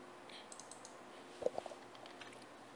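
A few quiet computer mouse clicks in medical imaging software, two close together near the middle, over a low steady room hum.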